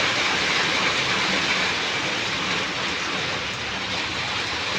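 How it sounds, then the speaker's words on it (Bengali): Steady rain falls outside a home in the evening, a dense even hiss of drops that holds constant and fairly loud for the whole stretch, with no speech. "এখন আবার দেখো কীরকম বৃষ্টি নেমে গেছে"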